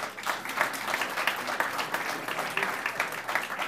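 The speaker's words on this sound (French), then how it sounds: "Je pense que ça vaut une bonne main d'applaudissements." Dense, steady applause from a seated audience at a municipal council session, many hands clapping continuously at moderate distance with no voices over it.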